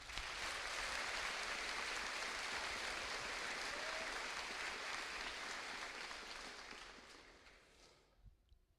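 Applause from a school final assembly audience: dense, even clapping that holds steady, then tapers away and fades out near the end, fairly quiet overall.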